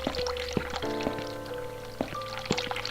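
A cold water tap runs in The Cat Lady game, a steady pouring stream with occasional drips and clunks beneath a low background hum.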